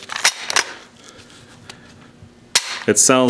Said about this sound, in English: what an old military rifle should sound like